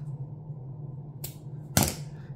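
Cutters snipping floral wire or ribbon for a wrist corsage: two crisp clicks about half a second apart, the second louder, close up over a steady low hum.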